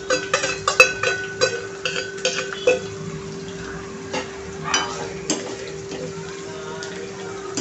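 Onion and curry leaves with garam masala frying in oil, a moderate sizzle with scattered clinks and scrapes of stirring in a pan, loudest in the first few seconds then settling into a softer fry; no talking.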